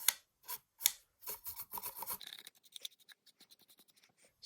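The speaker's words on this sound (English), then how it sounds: "Making sure I get into all the different little bits and that all excess paint has been wiped away." Rubbing and wiping excess paint off a plastic form, a run of close scratchy strokes, louder at first and then quicker and fainter with many short rasps.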